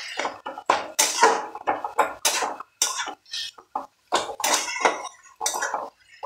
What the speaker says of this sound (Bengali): এবারে এটাকে নাড়াচাড়া করতে হবে।